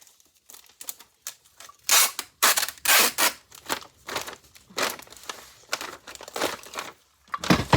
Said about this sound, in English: If I feel like it needs extra tape, I go ahead and put it on there.